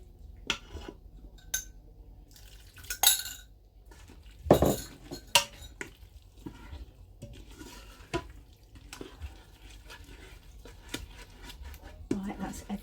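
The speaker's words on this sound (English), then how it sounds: "we're scraping the bottom with a plastic or silicone spatula" A plastic or silicone spatula scrapes and clinks against the bottom of a pot while stock goes into a chilli con carne in a Ninja multicooker, with irregular knocks, a splashy burst midway and occasional speech.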